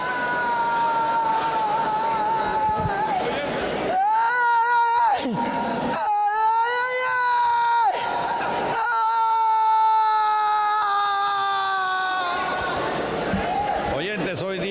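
A man screams and wails in long, strained, pitch-bending cries during a Spanish-language exorcism prayer at a church deliverance service, loud and sustained with brief breaks between outbursts.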